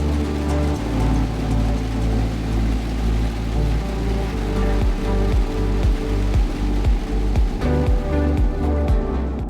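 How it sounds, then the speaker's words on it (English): Steady rain falls on a motorcycle ride across the Nullarbor Plain in Australia, a dense, constant hiss with a low rumbling drone underneath throughout. "And a couple of minutes later, the rain began to fall."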